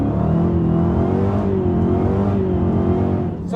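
A 707 bhp Dodge Challenger Hellcat's engine roars under hard acceleration, a loud, sustained deep growl with rising harmonics that holds steady and close throughout without letup.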